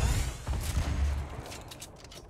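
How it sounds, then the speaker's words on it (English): Rapid gunfire in a Fortnite Battle Royale match, aimed up at a falling airdrop: a dense, sustained burst of shots close by, running steadily for a couple of seconds with no talk. "I'm shooting down this airdrop."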